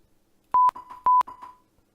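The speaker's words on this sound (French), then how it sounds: "il va lancer un petit bip qui ressemble à ça" Two short, sharp electronic beeps from Claymore's Remote Manager software in quick succession, each followed by a brief echoing tail, then quiet.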